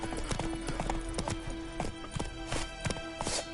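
Horse hooves clip-clop in a steady, quick gait in The Witcher 3: Wild Hunt, crisp rhythmic hoofbeats close by over a low ambient bed.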